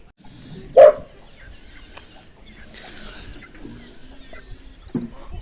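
A dog barks once, loud and sharp, in a rural yard where chickens are kept. A fainter bark or yip follows a few seconds later over quiet outdoor background.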